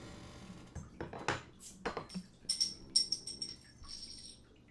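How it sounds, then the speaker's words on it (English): Ayinger Celebrator Doppelbock beer poured into a teardrop glass: a few clinks of glass, then a soft foamy hiss as the pour settles, close and fairly quiet with no talking. "Let's pour this sucker."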